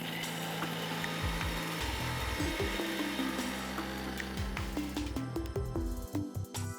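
A blender whirs and grinds sliced papaya, skin still on, into a smooth paste, with a loud motor drone and a jerky, rattling rhythm as the contents churn.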